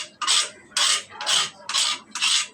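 Rhythmic rasping strokes of a stone grinding chili and spices on a flat grinding stone, five bursts in steady back-and-forth rhythm, close and fairly loud, with no talk.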